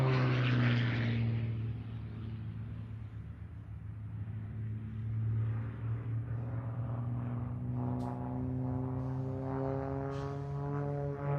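An aerobatic propeller plane, flown by five-time world freestyle aerobatic champion Rob, drones overhead. Its engine pitch climbs and falls in shifting sweeps as it tumbles and snaps, first fairly close, then steadier and more distant.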